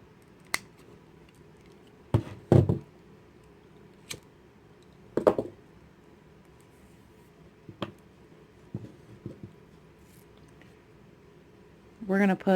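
Scissors cut through the string of a kandi bead project in a few sharp, close snips spread over several seconds in a quiet room, with soft handling clicks between the cuts.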